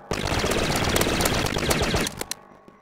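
Rapid automatic gunfire in Garry's Mod, a dense sustained burst for about two seconds, then a few scattered single shots as it trails off.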